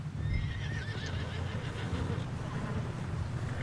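A horse galloping through snow in Red Dead Redemption 2, a high, wavering whinny over a dense rumble of hooves and wind-like game ambience, loud and close.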